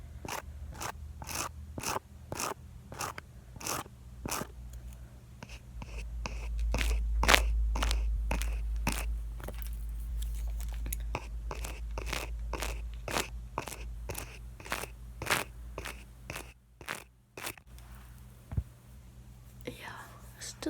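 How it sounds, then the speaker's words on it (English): Small scissors trim eyebrows in a steady run of crisp, close snips, about one every half second, with soft whispered speech under the snipping. "So first, let me just trim."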